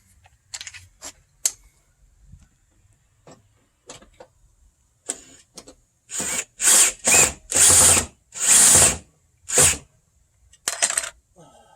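A power driver removes a bumper cover screw on a 2010-14 Kia Forte in a cluster of short, loud whirring bursts, after scattered faint clicks and handling noises.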